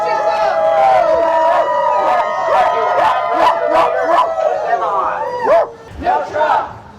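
Voices in a crowd at an anti-ICE protest imitate dogs, yelping, barking and howling together loudly and continuously, with shouts mixed in, close up and dense throughout.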